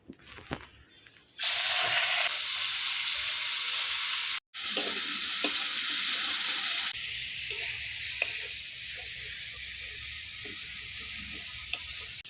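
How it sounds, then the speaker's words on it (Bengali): Small prawns rubbed with salt and turmeric fry in hot oil, a loud, steady sizzle that starts abruptly, cuts out for a moment, then carries on as a constant hiss. "চলো চিংড়ি মাছগুলো ভেজে নিই"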